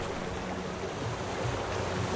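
Rough open-sea waves in the survival game Raft, a steady broadband wash of surf and wind with slow swells rising and falling, continuous and fairly loud with no voices.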